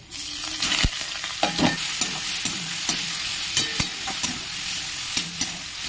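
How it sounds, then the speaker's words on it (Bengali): Roasted mango pulp with dried chili, old ginger and a little water is stirred in hot mustard oil for chutney: rhythmic spoon scrapes over a constant close sizzle. "পোড়া আম ও মশলাটা ভালো করে মেশাতে থাকবে।"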